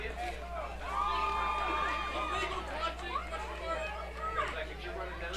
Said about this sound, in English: Home crowd for the Avella Eagles not happy with that call